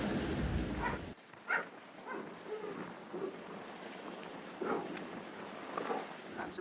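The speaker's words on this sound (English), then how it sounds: "That's some of the strongest wind for a long time." Strong wind buffeting an outdoor microphone, a loud rumbling roar at first that drops after a second into steadier gusty rushing with a few brief bumps, no talk.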